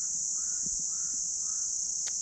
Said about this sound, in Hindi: पहाड़ी कौवे की है